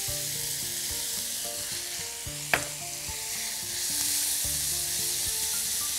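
Colored bell peppers fry in a pan with a steady, close hiss of sizzling, marked by one sharp clink midway and bits of stirring.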